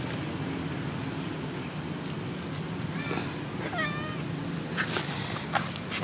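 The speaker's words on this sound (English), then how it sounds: "Mey Mey always waiting food here after a man eating already." A cat meows a few faint, brief times against a steady background hiss, with no talking.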